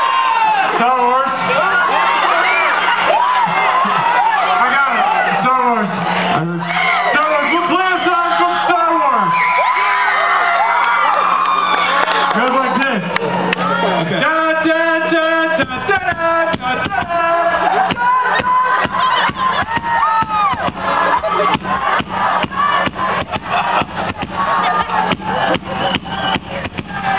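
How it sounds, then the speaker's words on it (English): A concert crowd shouts out favorite movie titles all at once, a loud jumble of whoops, yells and children's voices, with talking over the noise from the stage. "On the count of three, yell out your favorite movie of all time."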